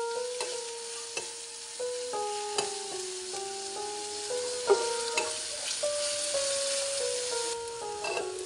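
Onion, ginger and garlic fry in a pan under a bright, continuous hiss, punctuated by regular stirring scrapes, while a simple melodic tune plays steadily in the background.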